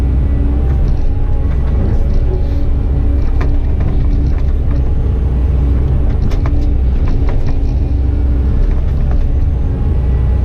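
An earthmoving machine grades a dirt road, its diesel engine rumbling loud and close in a constant low drone with scattered knocks and clanks, no talking.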